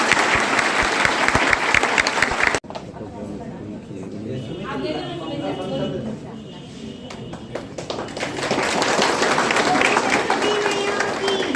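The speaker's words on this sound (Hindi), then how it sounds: "एक बार सबसे अपेक्षा करता हूं कि सर का बहुत जोरदार तालियों के साथ" An audience at a teacher induction training session breaks into loud applause for the director, with dense clapping at the start that drops away abruptly, then softer room sound and murmuring before the clapping swells again toward the end.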